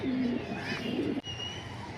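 A male chocolate racing pigeon gives a soft, low coo near the start, with a fainter murmur after it, close by against steady room noise.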